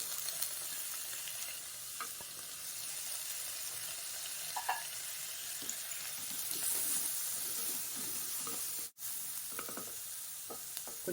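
Crushed garlic and curry leaves sizzle in hot oil for an ivy gourd stir-fry, giving a steady close crackle with a few stirring scrapes and one brief break.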